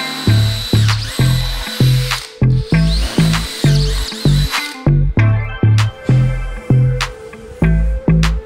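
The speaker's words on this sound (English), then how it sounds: "Drill holes for the mounting bolts and proceed to installation." A power drill whirs in rapid, regular bursts with a ratcheting, clicking rhythm, close and loud, repeating many times while drilling holes for mounting bolts.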